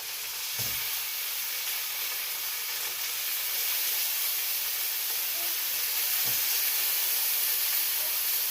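Tuna steaks sizzling in a hot pan, a steady, bright frying hiss that holds throughout and grows slightly louder, with a couple of faint low clunks of cooking activity.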